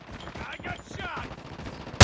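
Gunfire in a team-based shooter video game during an objective capture, a muffled rattle of rapid shots under game voice callouts, ending in one loud close burst.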